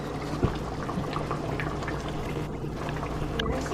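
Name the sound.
jollof rice sauce boiling in a pot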